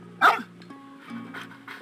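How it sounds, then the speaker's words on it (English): A dog in the video game Genshin Impact gives one sharp close bark, followed by softer whining, yipping sounds over a quiet tonal game background. "Ah, what a well-behaved doggy."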